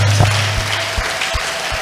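Church congregation at a workers' meeting applauding, a dense steady wash of clapping with a few louder claps standing out, a faint voice briefly audible near the start.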